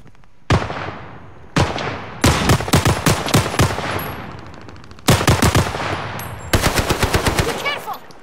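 Machine gun fire in the Call of Duty Warzone video game, with several loud sustained bursts of rapid automatic shots separated by brief pauses, close and dominant throughout.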